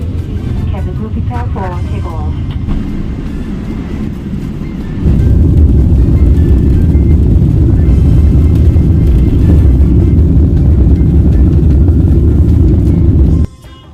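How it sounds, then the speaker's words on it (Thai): Airliner cabin at a Thai airport at night, with a steady loud low roar that jumps louder partway through and then holds constant, and a faint voice early on. "บรรยากาศทางด้านนอกในบริเวณสนามบินของเมืองไทยค่ะ เครื่องบินจอดอยู่เยอะมากเลยค่ะ"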